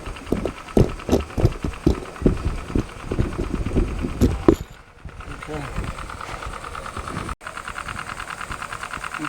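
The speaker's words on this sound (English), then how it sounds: "Here's my little engine running nicely." A small model steam engine runs steadily on a bench, its quick rhythmic chuffing and mechanical clatter close and fairly loud, then easing into a softer continuous hiss of escaping steam; a voice speaks briefly over it.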